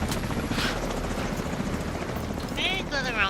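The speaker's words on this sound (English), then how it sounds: "I know, I'm waiting for the helicopter. I don't remember where the helicopter... Oh, there it goes." Helicopter flying overhead in The Division 2, a steady loud rotor drone filling the whole stretch, with a few brief higher chirps layered over it.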